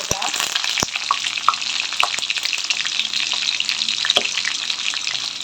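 Fenugreek seeds and green chilies frying in oil for a Tamil fish curry, a loud, steady sizzle with sharp pops and crackles scattered throughout, close up and without speech.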